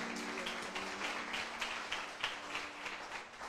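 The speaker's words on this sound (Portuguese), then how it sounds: "Forte aplauso ao Senhor Jesus nessa manhã" A church congregation applauds during a morning worship service with a faint, steady patter of clapping that pulses in a rough rhythm and carries on without a break.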